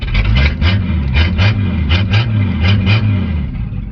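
An old truck engine idling after a cord start, a rough, loud, close chugging with uneven rhythmic pulses and a choppy low throb, running on its own.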